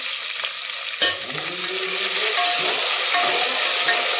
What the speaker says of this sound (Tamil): வெங்காயம் பொன்னிறமாக வதங்கணும் கொஞ்ச நேரம் அப்படியே வதங்கட்டும்